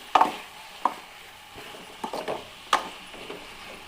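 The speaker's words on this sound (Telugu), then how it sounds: "సన్నగా తరిగి పెట్టుకున్న వంకాయ ముక్కలు, బాగా కలిసేంత వరకు కలుపుకొని" Thinly chopped brinjal pieces stirred in a pan, a few sharp scrapes and clinks of a spoon against the pan over a faint low sizzle, sparse and close.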